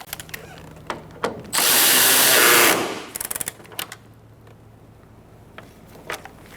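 A power tool tightens a bolt on a 2014-2019 Kia Soul 1.6L during AC condenser replacement, giving one loud sustained burst of about a second, set among scattered nearby clicks and clanks of handling parts.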